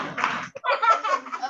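Children in a classroom applaud for a boy named Axel, a quick burst of scattered clapping with a short pause before it picks up again, mixed with light laughter and chatter.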